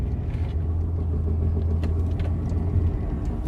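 Bad wheel bearing on a Toyota Camry, heard as a steady low droning hum with road rumble from inside the moving car, loud and continuous with no talk.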